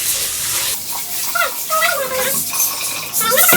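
About one and a half cups of rice being rinsed clean in water in a home kitchen, with sloshing, swirling splashes and trickling close by, continuous and fairly loud.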